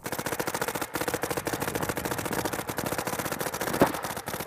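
Paintball markers fire in rapid, rhythmic bursts during a run-and-shoot drill, a dense steady popping stream at moderate distance with one louder shot near the end.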